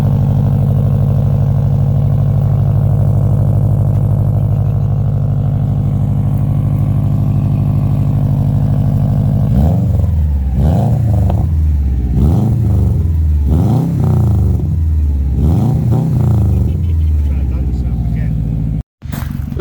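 Subaru car engine idling steadily and loudly up close, then revved in a series of repeated sharp blips, with people talking over it.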